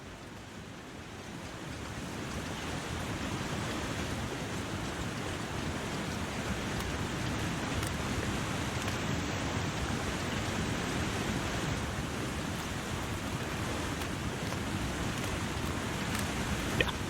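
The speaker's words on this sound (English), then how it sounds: "So this is just, you can't even see the waterfall, but it's beyond those rocks." Steady rushing waterfall in The Long Dark, hidden beyond rocks, a continuous broadband roar of falling water that holds evenly throughout with no talk.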